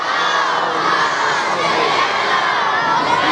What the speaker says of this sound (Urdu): منظم ہو کر بلند آواز سے درود پڑھیں گے